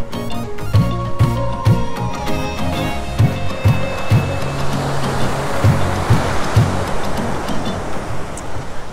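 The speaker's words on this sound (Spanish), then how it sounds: "es que el oleaje está tranquilo" Ocean surf breaks steadily on Icacos beach in Acapulco, a continuous broad wash of moderately loud surf with no voices over it.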